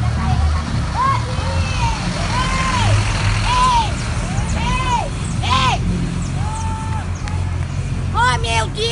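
A country bus on the Barra do Sul route passes without stopping, its low engine rumble rolling underneath as someone shouts loudly and repeatedly to flag it down.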